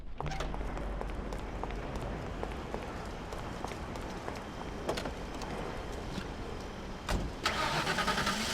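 A car engine in the Mafia video game cranks and catches, then settles into a steady mid-pitched idle, followed by a louder surge near the end, with no talking.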